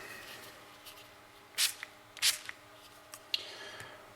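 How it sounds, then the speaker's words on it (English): FrogLube lubricant sprayed onto a metal surface in a few short, airy bursts, moderately close, with quiet gaps between them and no talking. "Let's give her another spray"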